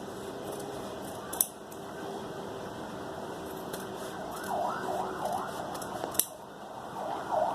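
Scissors cut fabric along the neckline of a kameez or blouse, giving a few sharp close snips over a steady background hum, with a faint warbling siren drifting in from far off.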